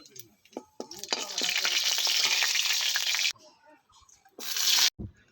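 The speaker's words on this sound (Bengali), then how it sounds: "ফোড়নের জন্য দিয়ে দেব জিরে আর তেজপাতা একটা মাঝখান থেকে চিড়ে নিয়েছি।" Cumin and a split bay leaf hit hot mustard oil in a wok, bursting into a loud, crackling sizzle that cuts out, then returns in a second short burst.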